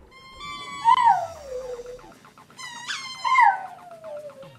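A dog whimpers and yips in high, sliding whines while playing with a squeaky toy, two close, fairly loud bursts with a short pause between, no talk.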